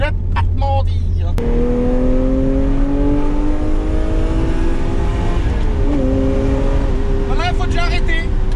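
Car engine revving and holding high, with rising and falling pitch, loud and close; a voice talks briefly at the start and again near the end.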